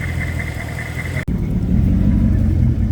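A turbocharged Mazda RX7 fitted with a Toyota 1UZ V8 idles loudly and close by, a steady deep engine rumble with one sharp click midway and a slight rise in level afterward, no voices.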